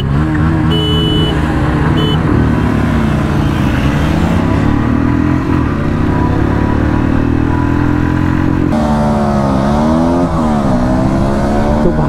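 Royal Enfield Classic 350, Bajaj Pulsar NS160 and Honda Hornet 2.0 motorcycles accelerate hard together in a race, a loud continuous engine roar with overlapping rising and shifting revs throughout.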